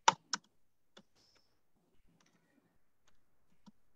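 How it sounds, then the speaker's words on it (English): Keys tapped on a computer keyboard, a few sharp clicks at the start followed by sparse, faint scattered taps in an otherwise quiet room. "Yes, sir. I'm typing."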